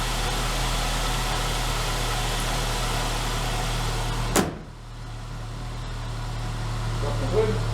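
A Saab 9-3 idles steadily up close on its first start in 2022, a low even hum broken by one sharp thud midway, with a voice speaking over it.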